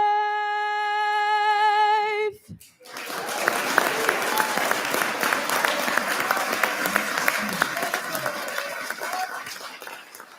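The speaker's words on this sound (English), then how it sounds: "How about another quick round of applause for our incredibly talented Cambridge students?" A sustained sung note ends, then an audience at a State of the City event bursts into loud, dense applause right after the national anthem, clapping steadily with some cheering mixed in.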